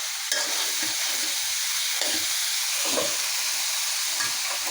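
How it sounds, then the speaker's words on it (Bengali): Bottle gourd greens stirred and cooked in a hot pan, with a constant loud sizzle and hiss broken by several scraping stirring strokes. "এখন আমি দিয়ে দিচ্ছি শাক"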